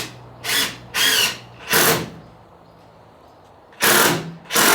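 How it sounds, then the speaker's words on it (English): A power drill driving into a vintage Airstream trailer during a shell-off restoration, five loud close bursts of whirring, each about half a second long, with a longer quiet pause before the last two. "And then so this is where we just drill it in."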